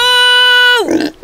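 A small cartoon creature called a fake pig in the animated series Amphibia lets out a loud, sustained high squeal that bends downward into a short, rough grunting snort at close range.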